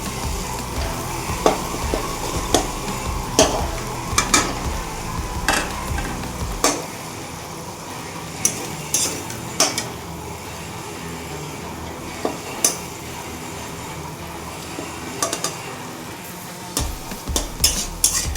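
Potatoes frying with tomato and spices in a pan, a steady sizzle broken by repeated scraping stirs and clanks from a utensil against the pan, close and fairly loud with no talking.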